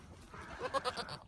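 A horned goat on a farm where kids have just been born gives one short, wavering bleat of a few quick pulses, fairly close but soft, over quiet background.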